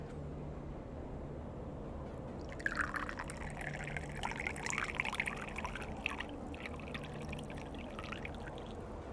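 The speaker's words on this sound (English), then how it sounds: "I'm going to pour it in front of the microphone again so you can get that lovely pissing sound." Juice pours from a glass just in front of a microphone, a trickling, splashing stream that starts after a short quiet moment and runs for several seconds over faint background hiss.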